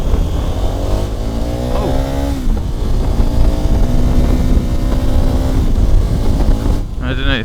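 A 2015 KTM 1290 Super Adventure motorcycle engine accelerating on the road, a steady loud drone with rising harmonic sweeps as it revs up through gears, with wind noise throughout and a brief voice exclaiming.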